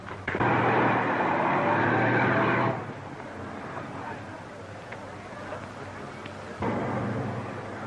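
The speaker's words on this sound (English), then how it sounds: "The Inspector General's car is coming, sir." A car pulls up in an old 1936 film scene: a loud, rough engine rumble holds for a couple of seconds, drops away, then swells again near the end.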